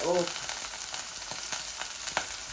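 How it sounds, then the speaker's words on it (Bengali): Onion and garlic frying in a pan give a steady, close crackling sizzle with small stirring scrapes, after a brief voice at the very start. "পেঁয়াজ আর রসুন দিলাইছি। একটু ভাজা ভাজা"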